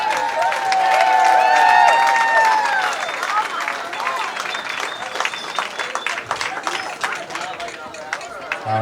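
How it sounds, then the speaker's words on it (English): Wedding guests at a reception break into loud clapping and cheering after the toasts, with whoops and shouts rising over the applause and then easing into scattered claps and crowd chatter. "Big round of applause once again"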